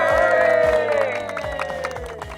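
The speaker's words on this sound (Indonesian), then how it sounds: "Beri tepuk tangan yang meriah." A crowd applauds and cheers for the defending first-place champion, Budi Susilo, at a traditional games event, a burst of clapping heard close that fades slightly.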